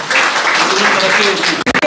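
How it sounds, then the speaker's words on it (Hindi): Audience applause at an Urdu Eid Milan mushaira poetry gathering in London: a dense, steady round of clapping from a seated crowd that carries on evenly and then breaks off abruptly near the end. "तो भरपूर तालियाँ उस अंजुमन के लिए।"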